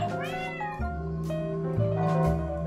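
A cat meowing in the game Hidden Cats in Paris, a couple of short rising meows heard clearly over a ringing bell background.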